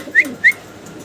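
Fancy pigeons kept for sale give two short, clear calls in quick succession over a quiet background hum.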